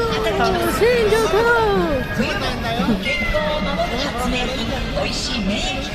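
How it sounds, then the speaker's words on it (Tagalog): A street cat meowing in Shinjuku, Tokyo, its rising and falling calls repeating over several seconds amid steady city crowd noise and people talking nearby. "Ayun na yung pusa!"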